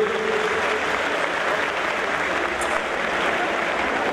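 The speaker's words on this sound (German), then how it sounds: "einen ganz großen Applaus" An audience at the Blizzard costume contest at Gamescom 2014 claps loudly and continuously, a thick, even wash of applause from a large crowd that holds steady throughout.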